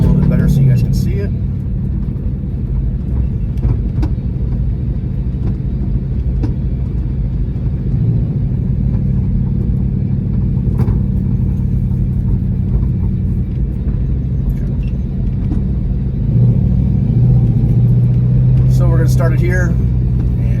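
A car cruises steadily through a residential neighborhood, its engine a continuous low rumble inside the cabin, with someone talking over it throughout.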